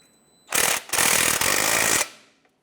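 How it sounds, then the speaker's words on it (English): Cordless impact gun with a 15mm socket tightening an exhaust tip clamp on a 2015-2020 Cadillac Escalade, a loud close rattling hammer of about a second and a half after a brief first burst. "I'm going to use my impact gun and go ahead and tighten down that clamp."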